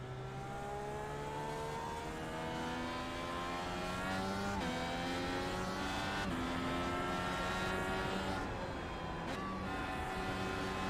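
An IndyCar race car in the video game iRacing at Richmond heads toward the pits. Its loud, close, high-revving engine whines steadily and drops in pitch at several sharp gear shifts.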